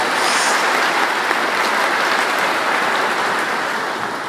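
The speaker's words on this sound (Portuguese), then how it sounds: "Uma salva de palmas a esses pais." Wedding guests applaud the bride and groom's parents, a steady dense wash of clapping that holds at an even level throughout and tapers slightly at the end.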